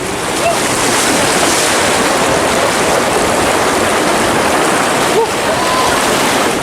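A volcanic lahar mudflow from Mount Semeru rushes down the Regoyo River channel in Lumajang, a loud, constant roar of churning water and debris close by, with wind buffeting the microphone.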